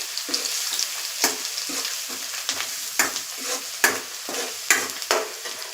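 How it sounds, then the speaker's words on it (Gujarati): Garlic fries gently in a pan over a low flame, a soft steady sizzle with regular spoon scrapes and stirring strokes, close and clear with no one speaking. "લસણ છે તેને આપણે હલકું ગુલાબી થવા દેવાનું છે."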